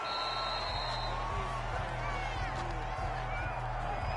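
Home crowd at an NFL game, Bengals versus Jaguars, cheers a referee's call after a quarterback sack, a sustained loud roar with scattered whoops, mixed under commentary.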